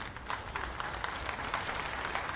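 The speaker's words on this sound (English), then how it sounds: "The applause tells you they're on their way." A snooker crowd at the 2023 Shanghai Masters applauds steadily as O'Sullivan and Carter return to the arena; the clapping is soft and distant, a continuous patter with no voices over it.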